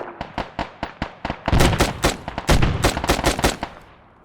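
Gunfire in the video game Arma 3, starting as spaced single shots and then turning into dense, rapid automatic bursts. It is sharp, loud and close, with no talking.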